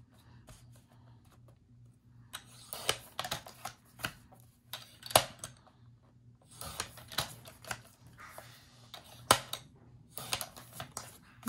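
Scissors snip through paper while Rustic Christmas decorations are cut apart, giving quick crisp cuts in uneven bursts with brief pauses between them, close and fairly quiet.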